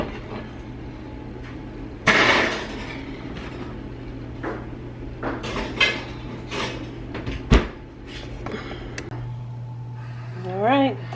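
Baking dishes of bread are slid into a home oven, with a sharp clunk, scattered knocks and rattles, and the oven door closing, while a person talks throughout.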